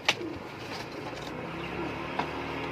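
Domestic pigeons in a loft give soft, low cooing calls at close range, with a couple of sharper rustles and a faint background hum.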